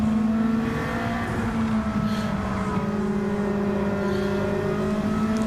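A GTCC race car runs at the Autopolis circuit in Japan, its engine droning in a steady, loud, near tone from inside the car, easing through corners to save fuel.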